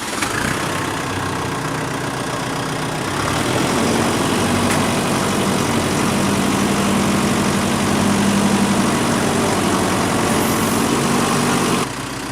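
A tractor engine idles and runs steadily in a creek bed, a continuous mid-low rumble that holds loud and close throughout with no talk.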